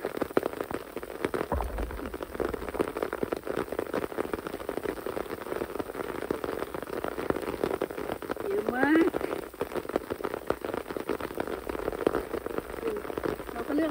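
Steady rain patters on foliage and surfaces outdoors during mushroom picking, a continuous close hiss with voices talking softly underneath.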